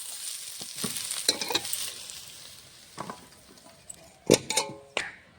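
Potatoes and cauliflower sizzle in a pan while a utensil scrapes and clinks against metal several times, the stirring sounds close and irregular.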